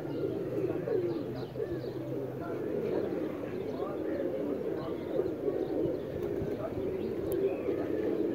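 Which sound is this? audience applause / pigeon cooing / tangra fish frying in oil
pigeon cooing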